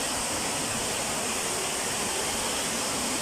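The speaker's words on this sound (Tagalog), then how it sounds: "Dito yung tubig sa baba." Continuous rushing of water flowing below, heard as a steady, even broadband wash at moderate distance with no breaks and no voices.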